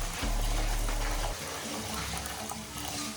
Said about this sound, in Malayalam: ഇനി നമുക്ക് ഇതിലോട്ട് കുറച്ച് പാല് ഒഴിക്കാം കേട്ടോ.